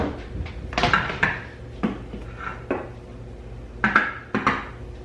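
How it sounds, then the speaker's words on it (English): A metal cooking sheet is pulled from a kitchen cupboard for cutting sweet potatoes, giving a series of sharp clanks and knocks, several of them spaced irregularly and close by, with no talking. "Get my cooking sheet because that's what I will cut my sweet potatoes on."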